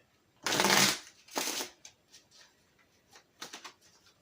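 A deck of cards is shuffled in two quick riffle bursts, followed by a few lighter taps and flicks of cards, close and clear in a quiet room.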